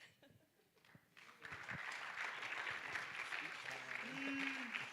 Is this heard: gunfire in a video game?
no